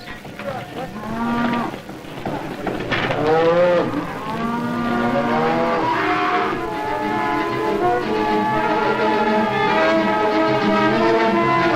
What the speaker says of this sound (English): In ever greater numbers, the cattle are on the move.